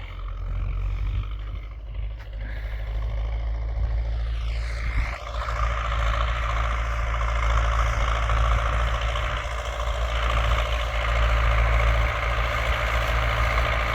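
A heavy diesel tractor engine under heavy load pulling a cultivator drones steadily at low pitch throughout, loud and close, with a constant mechanical hum and no voices.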